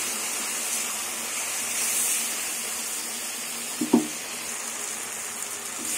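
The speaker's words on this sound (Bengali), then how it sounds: "এবার ভালো করে কষিয়ে দেবো কিছুক্ষণ" Turmeric, cumin and chili powder sautéing in hot oil in a pan for a chicken and cabbage dish give a steady, soft sizzle throughout, with a brief clatter of stirring near the middle.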